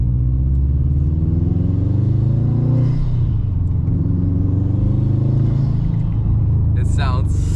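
Subaru STI with an SF intake heard from inside the cabin: a loud, deep engine drone that climbs in pitch as the revs rise, then settles into a steady throaty hum, with a brief high chirp near the end.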